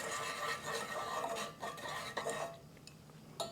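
General Tso's sauce is stirred in a pan, a quiet, close scraping and rubbing of a utensil against metal in uneven strokes, fading toward the end before a final light clink.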